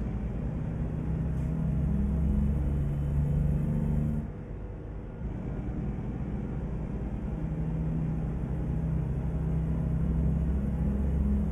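A truck engine in a driving video game pulls hard under acceleration, a steady loud low drone that dips briefly as if shifting gear, then builds again, with no talking.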